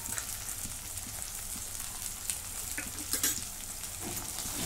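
A coconut and coriander paste with vegetables stir-fried for a steamed cauliflower dish, giving a steady close sizzle with a few scraping stirs.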